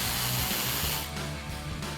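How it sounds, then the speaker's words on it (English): A ratchet with a 12 mm socket loosens the brake caliper bolts on a 2005-2014 Mustang GT, giving rapid close clicking over a noisy workshop background, then a quieter run of pawl ticks. "So we'll grab our 12 mil socket on our ratchet, pop those off."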